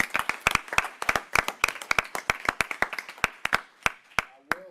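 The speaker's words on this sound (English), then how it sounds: "round of applause" Scattered hand claps from a small audience at a Fort Mill school board meeting, sharp separate claps in an uneven rhythm that thin out toward the end, close and fairly loud with no talk.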